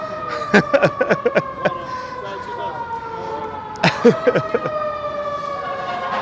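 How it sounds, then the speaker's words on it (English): A New York City fire ladder truck siren wails steadily in the background with long sliding tones on a windy Manhattan street, while sharp clattering knocks and nearby street noise punch through in two bursts. "like that siren from truck 4, ladder truck number 4"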